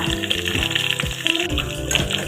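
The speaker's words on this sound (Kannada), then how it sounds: "ಕೊತ್ತಂಬರಿ ಕರಿಬೇವು ಜೀರಿಗೆ ಸಾಸಿವೆ ಹಾಕಿ ಒಗ್ಗರಣೆ ಕೊಟ್ಟ ತಕ್ಷಣ ಸ್ಟೋವ್ನ ಆಫ್ ಮಾಡಿಬಿಡೋಣ" Loud sizzling and crackling of mustard seeds, cumin, curry leaves and coriander hitting hot oil, a busy spitting hiss throughout with a few low clunks.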